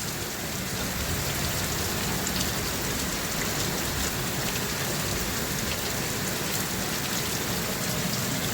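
A steady, heavy nighttime downpour in a July storm with lightning hisses evenly and loudly throughout, drops drumming continuously on surfaces, with no talking.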